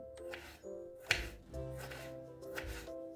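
Soft knife chops through tomatoes on a cutting board, a handful of irregular cuts, faint against a low steady background hum.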